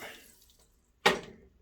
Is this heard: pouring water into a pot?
yes